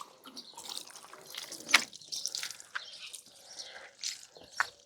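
Water sheeting off a car bonnet and dripping, a soft continuous trickle broken by scattered close droplet splashes, no talking.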